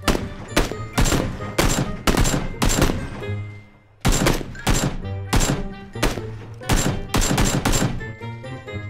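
Gunfire in the video game PUBG rings out in loud repeated bursts of sharp shots, clustered rhythmically with a brief pause near the middle before resuming, close and dominant over a faint background.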